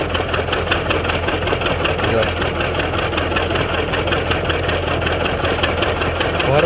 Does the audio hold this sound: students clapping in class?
no